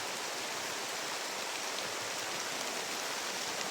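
Steady rain falls during an outdoor rescue, a dense, even hiss that holds constant throughout with no voices over it.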